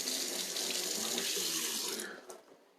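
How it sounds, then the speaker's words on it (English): Fresh mint is rinsed under a running kitchen tap, water gushing steadily in a sink before tapering off as the flow is shut. "Let's cut this mint off. Give it a rinse."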